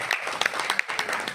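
Applause from an audience welcoming new guests at a Vestige work-from-home business gathering: a brief burst of scattered, uneven hand claps at moderate loudness, with faint voices underneath.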